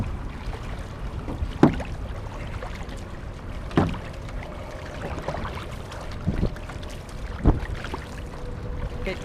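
A war canoe team practicing on open water, with paddle strokes dipping and pulling in a rough rhythm roughly every two seconds. Constant wind and water wash sit underneath.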